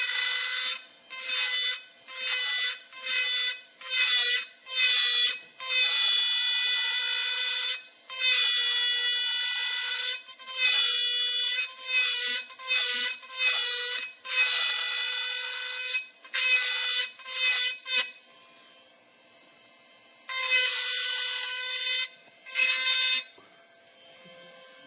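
A pneumatic carving tool with a 100 grit diamond point grinds into wood in a rapid series of short, high-pitched bursts, each start and stop distinct, with a longer steady run near the middle and a pause before a final burst.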